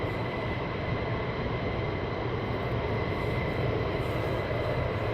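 Fighter jets taxiing at RAF Lakenheath air base: a steady, loud, broadband engine roar with a constant high whine, unbroken throughout with no talk.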